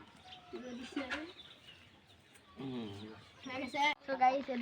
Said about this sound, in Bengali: আমাদের মুরগির ঘর এখানে মুরগিগুলো থাকে মুরগির বাচ্চা